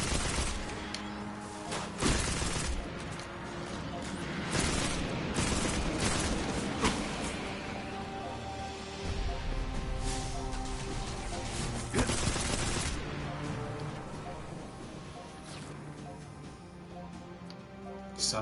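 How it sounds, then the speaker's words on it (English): Continuous gunfire in the shooter Destiny 2, rapid bursts and booms layered over music and effects, steady and loud across the whole stretch. "We're getting shot at."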